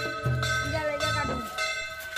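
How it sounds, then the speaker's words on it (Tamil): A temple bell rings nearby in Batticaloa, giving a few resonant metallic strikes with ringing tails, heard amid outdoor background noise and voices. "பக்கத்தில் கோயில் மணியும் அடிக்குது."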